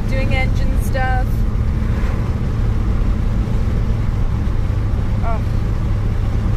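Steady low engine rumble of a 1956 Chevy driving in California, with a few brief higher squeaks and tones above the constant drone.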